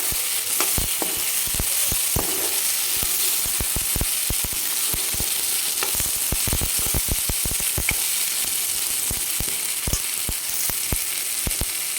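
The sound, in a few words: roasted sandga stirred into softened tomatoes in pan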